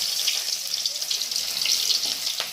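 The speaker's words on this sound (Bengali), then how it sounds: "তেলটা গরম হয়ে গিয়েছে, প্রথমে পেঁয়াজ দিয়ে দিলাম" Chopped onion dropped into hot oil in a pan for a Bengali katla fish dopiyaza, giving a steady, close hiss and sizzle that holds evenly throughout with a brief sharper crackle near the end.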